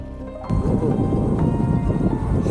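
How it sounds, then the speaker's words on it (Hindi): Light drizzle falls on a mountain pass along the Ha Giang Loop in Vietnam, starting abruptly after a brief quiet moment and then holding as a steady, close, fairly loud hiss with no voices. "बारिश रुकी तो नहीं है, फुहार फुहार पड़ रही है।"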